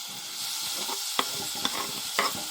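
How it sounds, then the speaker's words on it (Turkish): Onions frying in hot oil in a wide pot for cabbage with eggs, with a constant sizzle broken by a few sharp clinks and scrapes of a spoon stirring, close up and without voices. "Sıvıya kızdıktan sonra soğan ekliyoruz ve kavuruyoruz"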